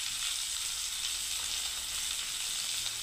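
Garlic frying in a pan for garlic bharta, a steady, even sizzle that hisses on without a break, fairly close and alone with no voices.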